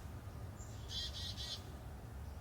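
Pet birds in an outdoor aviary cage give a short burst of three quick, bright chirps in a row, faint and fairly close over a steady low background hum.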